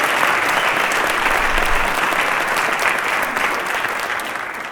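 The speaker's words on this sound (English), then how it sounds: "and Ellsworth gets a round of applause too." A loud, sustained round of applause from a school event audience welcoming a guest, a dense wash of many hands clapping that holds steady for several seconds and tapers slightly at the end.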